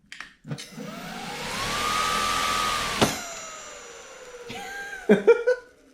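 A Razor MX350 electric dirt bike motor whines up on the throttle, holding a steady high hum for a couple of seconds before winding down, followed by a few short clicks and knocks nearby.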